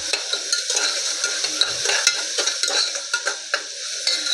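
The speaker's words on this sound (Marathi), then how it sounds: "कांदा भाजू द्या थोडा" Chopped onion roasting in a little oil for an arbi masala is stirred in a pan, bright close sizzling broken by quick repeated scraping strokes and spatula taps.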